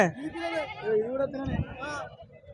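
Sheep and lambs bleat at a weekly livestock market, with several wavering calls close by that overlap with people talking nearby.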